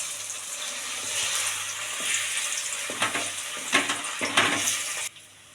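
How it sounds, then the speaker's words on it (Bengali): Spiced potatoes sizzle and crackle as they are stir-fried in white oil in a hot wok, a steady close hiss broken by several louder scraping stirs near the end, with no talking. "এখন আমি সাদা তেল দিয়ে আলুটাকে মশলা দিয়ে কষিয়ে নেব।"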